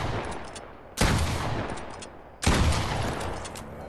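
Gunfire in the video game Fortnite: two loud, close, sharp blasts about a second and a half apart, each followed by a long decaying rumble.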